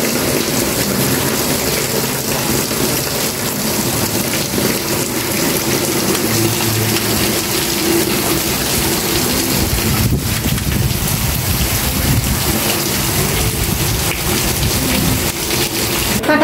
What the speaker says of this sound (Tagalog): Wala pa rin pong hinto ang ulan dito sa aming lugar.